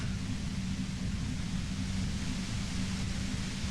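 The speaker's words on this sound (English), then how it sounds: "The violet-white noise becomes even more overwhelming closer to the compressor." A compressor in the Disco Elysium video game gives off an unbroken, dense wash of low rumbling hiss, loud and uniform with no pauses or voices.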